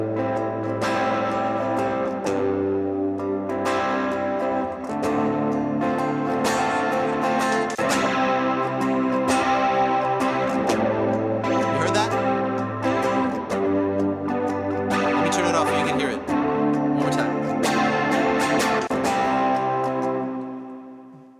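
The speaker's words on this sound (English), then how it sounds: "I'm going to be playing a chord progression, and I'm going to activate a chorus to just jump in at the pinnacle of the song" An electric guitar plays a chord progression through a Hotone Ampero Mini multi-effects unit with no amp, its chorus effect shimmering over sustained, steady chords that ring continuously without pauses.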